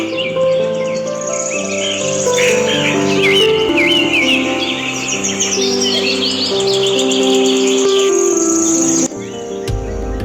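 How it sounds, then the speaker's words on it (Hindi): Birds chirp and trill steadily close by in an Uttarakhand mountain valley, with several calls overlapping against a bed of sustained tonal background sound and a faint insect-like buzz, ending abruptly. "प्रकृति की इस रौनक के बीच चिड़ियों का चहचहाना भी किसी स्वप्न लोक की यात्रा का एहसास कराने से कम नहीं है।"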